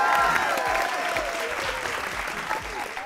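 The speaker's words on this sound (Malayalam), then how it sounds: "കയ്യടി കൊടുക്ക്, ഗ്ലാസ് വെക്കും." Audience applause breaks out at a live televised stage show, steady clapping from a large crowd with some cheering, held loud for the whole stretch.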